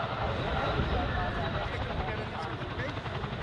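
An Avro Vulcan bomber flies past with its wheels down at the 2015 Cosford Airshow, a loud, steady broadband jet roar that fills the whole short stretch without a break.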